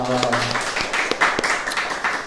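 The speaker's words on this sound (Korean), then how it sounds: "박수하겠습니다" A church congregation applauds with dense, crackling clapping during a worship service, and a voice is heard briefly at the start.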